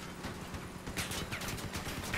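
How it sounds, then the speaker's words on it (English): Repeated shotgun blasts ring out in the vehicle combat game Crossout, a rapid irregular volley of sharp bursts over a constant rumbling engine bed. "those shotguns are powerful"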